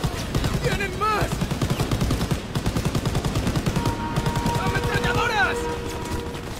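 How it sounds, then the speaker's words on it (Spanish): Sustained machine gun fire in Call of Duty WWII during a World War II train fight, a loud, rapid rattle of bursts continuing throughout, with shouted voices and game effects over the top. "¡Ametralladoras!"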